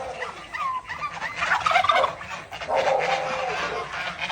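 Turkeys gobbling nearby in rapid, warbling bursts, one call after another, with faint farmyard noise of geese and ducks underneath.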